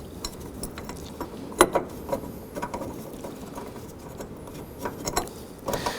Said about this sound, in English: we're going to get these bolts started in this bracket and into the mount